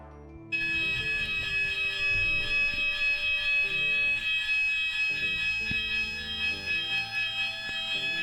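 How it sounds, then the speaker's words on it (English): A building fire alarm kicks in after a brief pause and rings continuously at a high, steady pitch, loud and sustained to the end, with faint room sounds underneath and no talking. "That's our fire alarm, guys."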